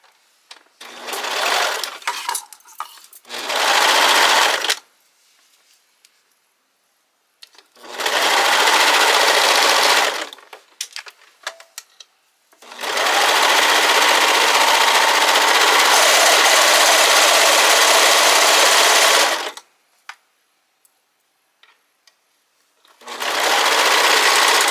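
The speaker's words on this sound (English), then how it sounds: "we're going to start with the one side that we're just going to serge all the way up" A serger overlock machine whirs loudly while stitching up the side of a fabric piece, in four bursts, short ones then a long continuous run, separated by quiet pauses.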